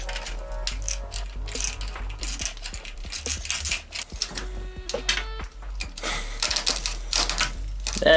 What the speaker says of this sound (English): This mesh is very easy to cut.